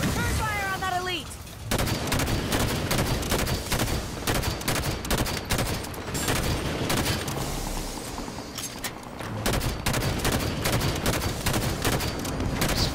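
Gunfire in Halo 5 Warzone Firefight: rapid bursts of automatic weapon fire and heavy impacts, loud and nearly continuous, with brief pauses and a short synthetic tone at the start.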